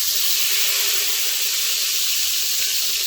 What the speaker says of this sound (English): I'm just going to put a couple of spoonfuls in this hot skillet.